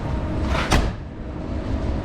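A single dull, muffled thump of a sound-deadened Nissan Sunny truck (Datsun 1200) door shutting, solid and close, surrounded by steady low background hum.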